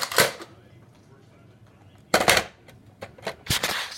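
A foam-dart toy blaster fires in a few sharp snapping bursts, one near the start, another around the middle and a double shot near the end, close and fairly loud with quiet room noise between.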